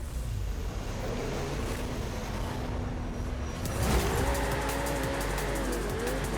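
Ferrari Pista engine in Forza Horizon 5, a steady motor drone that swells after a few seconds into a louder revving pitch sweeping up and down, with wind noise throughout.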